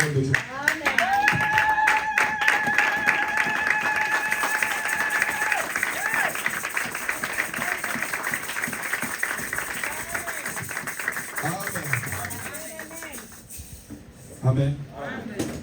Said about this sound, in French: Applaudissons pour la parole de Dieu